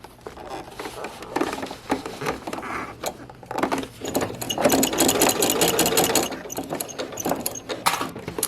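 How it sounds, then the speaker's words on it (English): A sewing machine stitching a long sleeve seam at a 5/8 inch allowance with topstitching thread, its motor whirring in starts and stops, then running a longer steady stretch, close and loud. "I'm going to stitch everything at a 1/2 inch seam, or sorry, at a 5/8 inch seam allowance."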